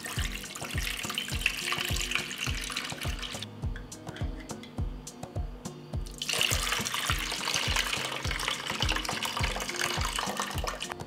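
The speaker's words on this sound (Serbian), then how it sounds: "tečnost iz tegle sipat ću u jednu šerpu" Liquid from glass jars poured into a cooking pot, a steady splashing stream that pauses briefly midway then resumes, with a rhythmic low thumping running underneath throughout.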